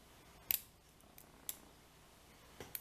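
Faint, sharp clicks from picking a pin in a Piston Stroke Challenge lock held in a vise, a few isolated ticks spaced irregularly over near-silence.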